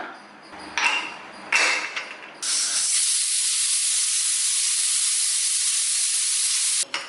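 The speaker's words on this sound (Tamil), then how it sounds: "குக்கர் மூடி போட்டு ஒரு விசில் விட்டு எடுத்துக்கலாம்" A pressure cooker cooking soya biryani lets off steam: two short hissing spurts, then a loud, steady high-pitched whistle of escaping steam lasting several seconds before cutting off abruptly.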